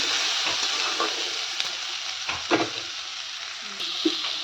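Food frying in oil in a kadai for a vegetarian dinner, a continuous close sizzle with a few faint knocks of stirring and no speech.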